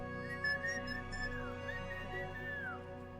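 A person whistles to call dogs, a steady melodic whistle with a couple of rising and falling phrases, heard over a constant background hum in a game setting.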